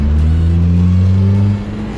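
Loud, close engine hum of cars on a busy Dubai street, a steady low drone from vehicles in traffic that drops off toward the end as one passes.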